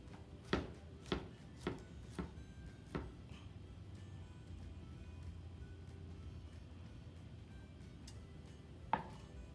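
Knife slicing through fresh strawberries on a cutting board, five evenly spaced chops near the start followed by a quiet pause and one last sharp cut, close and fairly faint.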